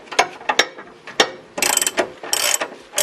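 A 19 mm socket wrench ratchets a nut tight on the output shaft seal job of a 2G Eclipse, loud close clicking pawl bursts in uneven runs, some quick single clicks and longer rattling strokes.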